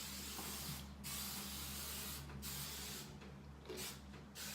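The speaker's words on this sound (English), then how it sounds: "And I'll spray this side." Hairspray sprayed onto freshly curled hair, heard as several long hissing aerosol bursts of a few seconds each, separated by short pauses, fairly close but at modest volume.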